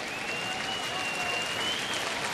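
Baseball crowd applauding steadily in a standing ovation for pitcher Phil Humber, a dense wash of clapping and cheering from a large stadium audience, with a faint whistle tone riding over it.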